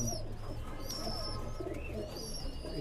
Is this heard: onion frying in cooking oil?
no